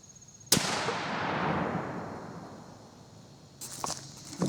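A single loud rifle shot from a Thompson Center muzzleloader firing a Shockwave bullet at a target cracks sharply, then a long rumbling echo rolls away outdoors before faint handling noises follow.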